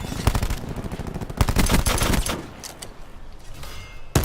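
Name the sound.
cordite SMG gunfire in video game Black Ops 4 Blackout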